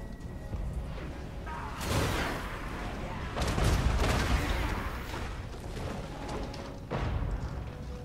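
Dwarf cannons boom in a Total War: Warhammer 2 Mortal Empires battle, giving several heavy, rumbling shots spaced a few seconds apart over continuous battlefield noise.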